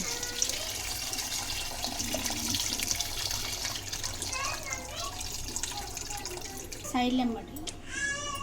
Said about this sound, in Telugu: ఇప్పుడు కొన్ని వాటర్ యాడ్ చేసుకున్నాం